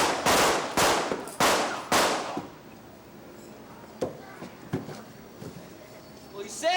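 Four sharp, loud gunshots ring out in quick succession during a staged western stunt show at Knott's Berry Farm in 1985, followed by scattered clatter and faint crowd noise.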